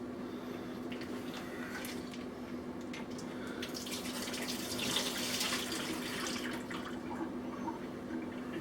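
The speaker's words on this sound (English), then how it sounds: "just poured that water off" Continuous splashing and trickling of hot water poured off from a thermos, steady and moderately loud, with scattered drips and gurgles, close by.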